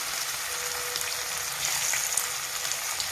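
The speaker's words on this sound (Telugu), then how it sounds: "వేడి నూనెలో గోపి ఎక్కువ ఉంటే బ్యాక్ పీసుల వారిగా వేసుకోవాలండి" Cauliflower pieces frying in hot oil make a dense, even crackling sizzle that holds steady throughout, close by, with no voices.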